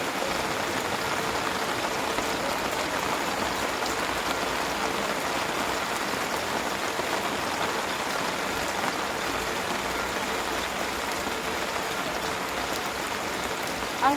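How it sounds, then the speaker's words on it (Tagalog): Heavy rain falls outdoors in a steady, loud, unbroken wash of hiss with no other sound standing out and no one speaking. "Tapos biglang nag-ulan."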